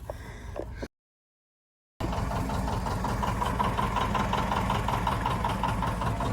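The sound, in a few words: rare tractor engine running at tractor parade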